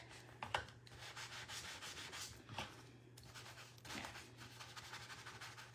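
Dry rubbing on Dollar Tree wooden craft pieces for a primitive patriotic wagon, quiet close scratchy strokes repeating in an irregular back-and-forth rhythm.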